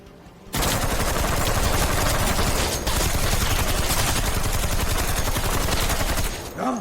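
Sustained, dense rapid gunfire, like a machine gun firing continuously at close range at a sea mine, loud and unbroken for several seconds before cutting off.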